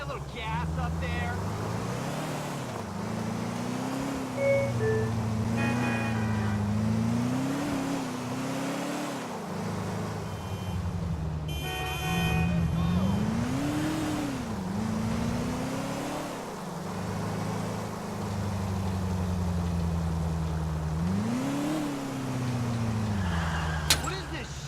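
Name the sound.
car engine accelerating in video game GTA IV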